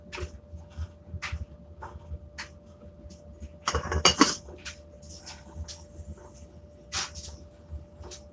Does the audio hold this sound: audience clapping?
no